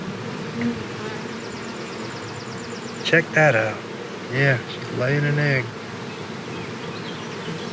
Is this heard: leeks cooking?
no